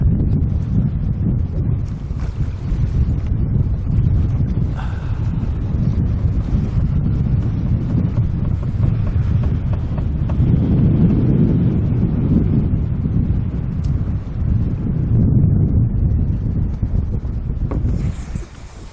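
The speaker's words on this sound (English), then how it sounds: "We've had some pretty good gusts all afternoon and into the evening" Strong wind roars and buffets continuously in low, heavy gusts around a boat anchored at night in Waiatt Bay, Octopus Islands Marine Park, with rumbling microphone noise throughout.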